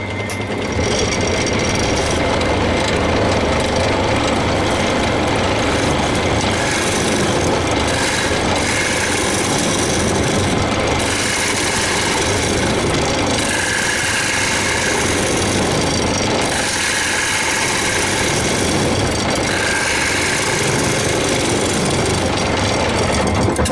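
An ash bowl is hollowed out on a wood lathe, the gouge scraping and hissing continuously and loudly at close range, with brief dips in intensity as the cut pauses.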